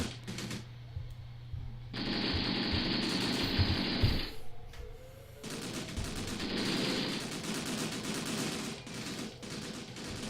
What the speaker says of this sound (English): It's the enemy trench guys returning fire at us.